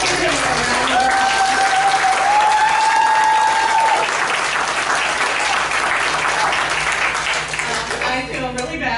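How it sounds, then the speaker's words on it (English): A crowd applauds loudly and steadily, with the clapping sustained throughout and a few faint whistles or cheers rising over it near the start. "let's give him a round of applause"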